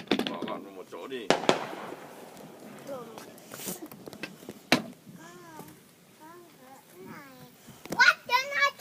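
Fireworks go off in the distance with a few sharp cracking bangs spread across several seconds, while children chatter and call out nearby throughout.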